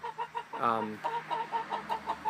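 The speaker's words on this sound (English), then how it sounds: "So there are hens in there." Hens in a backyard coop clucking close by, a steady run of short rhythmic clucks with one drawn-out squawk early on, quiet and alone.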